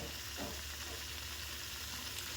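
Brinjal curry simmering in a covered pan over a medium gas flame, with a steady, faint sizzling and bubbling hiss that continues evenly throughout.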